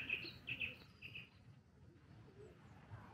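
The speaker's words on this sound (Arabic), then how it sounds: "حمام وبط" Pigeons and ducks in Warsaw, with a few faint coos and soft bird calls in the first second over quiet outdoor background noise.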